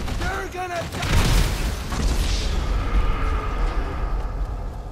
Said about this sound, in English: threw the sticky bomb on the truck. And I detonated too close.